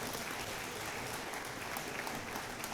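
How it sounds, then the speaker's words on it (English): Audience at a school board of education meeting gives a steady round of applause, a continuous, moderately distant wash of clapping with no talk. "Let's give these guys one more round of applause."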